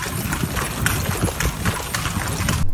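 Horse hooves clop steadily on a city street during horse rides in the Philippines, a close, continuous, uneven trotting rhythm over busy outdoor background noise.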